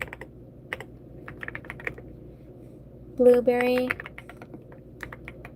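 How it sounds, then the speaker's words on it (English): Typing on a computer keyboard during a live stream: soft, scattered key clicks in an irregular rhythm, fairly close, with a voice speaking briefly over them. "I'm typing names live, leaving it in the chat"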